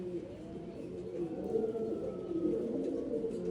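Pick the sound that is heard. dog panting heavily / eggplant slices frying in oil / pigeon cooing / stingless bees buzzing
pigeon cooing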